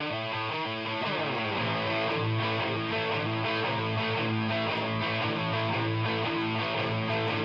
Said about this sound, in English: all the guitars sound like this when they're all together.